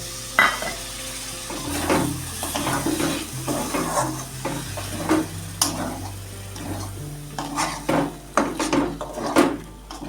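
Spiced potato curry for Mughlai paratha frying in a pan, a steady sizzle with a spoon stirring and scraping against the pot in irregular strokes, close up and without talk.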